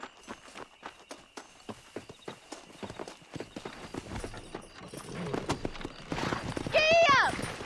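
A horse ridden in the video game Red Dead Redemption, its hooves clip-clopping in a steady, close rhythm that quickens toward the end, where a whinny rises over the galloping.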